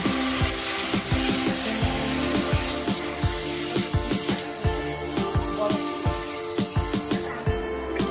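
Spice paste with cashew paste and green chili frying in oil for Bengali katla fish kalia, a steady close sizzle broken by repeated scraping and stirring strokes of a spoon against the pan.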